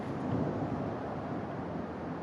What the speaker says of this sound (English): We heard a loud thunder bang.